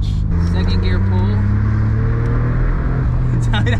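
A Suzuki Cappuccino kei car pulling hard in second gear, its engine note climbing steadily and loud from inside the cabin, with voices talking over the run.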